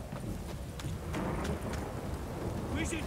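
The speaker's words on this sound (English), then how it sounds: "This downpour's a bastard," Steady heavy downpour with rumbling thunder fills a rainy scene in the video game The Witcher 3: Wild Hunt next-gen, a constant dense wash of rain with low rolling rumble throughout.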